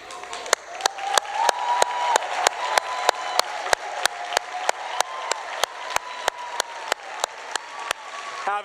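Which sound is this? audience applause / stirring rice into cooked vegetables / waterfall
audience applause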